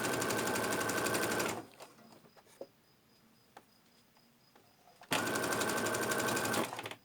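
Nearby, a sewing machine stitches an inside pocket into a bag in two fast, buzzing runs separated by a quiet pause with small handling clicks and taps.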